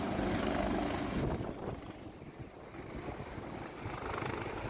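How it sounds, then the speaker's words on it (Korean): Helicopter descending to land at a helipad beside a mountain hiking trail, its rotor wash and engine roar steady and fairly close, a continuous whirring rumble with no voices. "바로 옆에 헬기장이 있는데 헬기가 여기로 내려오고 있고요."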